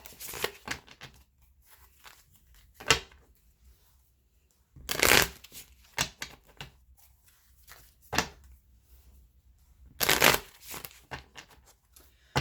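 Gilded Tarot cards being shuffled, quiet riffling and sliding with several louder bursts of card-on-card slaps spread across the stretch, fairly close and alone with no talk.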